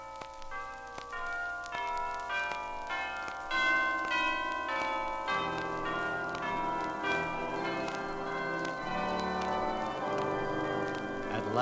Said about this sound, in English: the chimes sounded forth